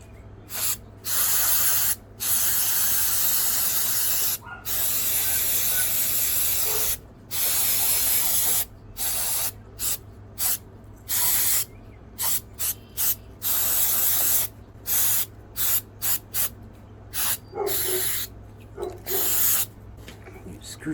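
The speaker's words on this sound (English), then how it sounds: "I don't really want to get carb spray in there, but up there's no problem." Carburetor cleaner sprayed onto a Craftsman lawnmower carburetor in repeated short and longer hissing bursts, close and loud, with a person talking in between.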